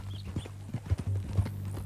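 Horse hooves clip-clop at a steady walking pace in the Red Dead Redemption 2 video game, moderately close, over a low engine-like hum.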